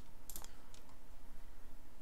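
Light keystrokes on a computer keyboard come as a brief cluster of quiet clicks near the start, then a couple of softer taps, over a faint room hush.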